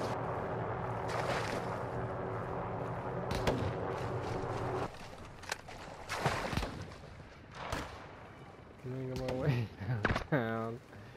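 Gunfire in an online shooter video game: scattered sharp shots, some near and some distant, over a steady game hum, with someone talking near the end.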